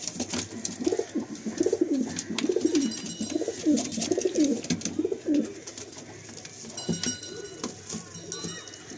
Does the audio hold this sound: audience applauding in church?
no